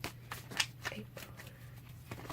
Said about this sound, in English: I don't like to be able to see the cards while I'm shuffling.